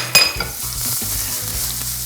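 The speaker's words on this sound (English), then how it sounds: "our oil is hot, ready for our garlic" Garlic hits hot oil for a pasta sauce in a pan, giving a sharp initial splash and then a steady, close sizzle and frying hiss with light stirring, no voices.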